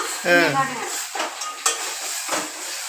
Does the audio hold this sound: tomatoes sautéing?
yes